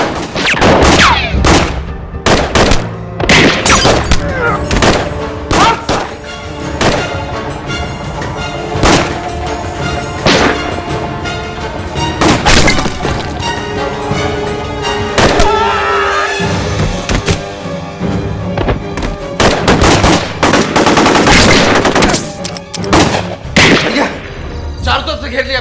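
Dramatized gunfire in a gang shootout in Maharajganj, Uttar Pradesh, sounds as loud, sharp shots and booming bursts, scattered irregularly throughout over a dense backdrop of music and sound effects.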